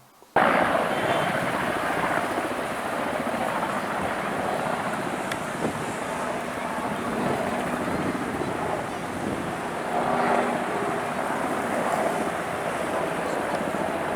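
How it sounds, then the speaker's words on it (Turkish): A firefighting aircraft flying over an evening wildfire in Datça, a broad continuous engine roar mixed with wind noise that holds steady throughout, swelling slightly around the middle, with faint voices in the background. "uçak da geldi."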